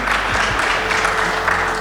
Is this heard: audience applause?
yes